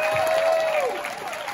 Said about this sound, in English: So let's give a round of applause to John Hayes.